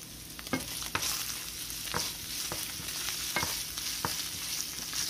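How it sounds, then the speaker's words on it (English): Shrimp mushrooms sautéing in a little oil in a pan, a steady close sizzle broken by a few sharp stirring scrapes and clacks of a utensil, with no talk. "sauteing in a little bit of oil"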